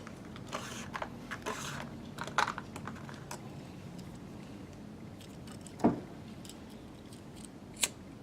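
Scissors clip the serving thread on a hunting bow's bowstring, making a few sharp, close snips spread out over a quiet background.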